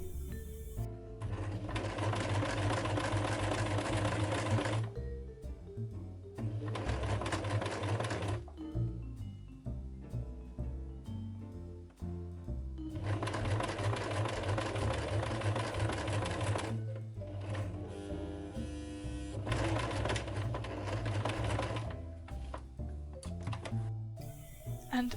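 A sewing machine stitches through a blouse's seam allowance in rapid bursts of several seconds each, with short pauses between runs, close and clear with no voices.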